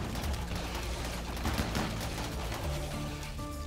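Sustained automatic fire from Storm weapons in RimWorld during a fight against steel spiders: dense, continuous rattling shots over a low rumble.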